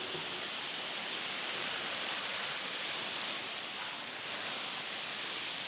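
Steady hiss of water spraying over a freshly planted herb garden bed, constant and even from start to finish with no voices.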